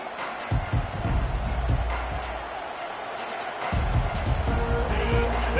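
Stadium crowd at a Notre Dame versus Texas A&M college football game, a loud, dense roar that swells toward the end, with a commentator's voice running over it.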